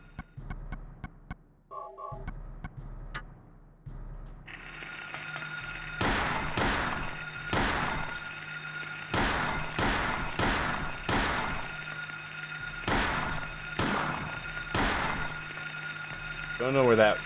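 Gunshots in a video game ring out as a series of sharp, loud cracks in irregular bursts over a steady droning background, with a few smaller clicks early on.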